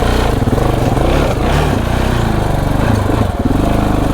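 A KTM 690 Enduro R single-cylinder motorcycle engine running loud and close, a steady throbbing pulse with rough revving surges, continuous throughout.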